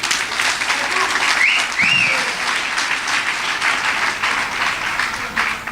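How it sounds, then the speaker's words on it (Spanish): An audience at a Friday church service claps in sustained applause for a few seconds, a dense steady patter filling the space, with a voice briefly speaking over it. "Denle un aplauso al hermano."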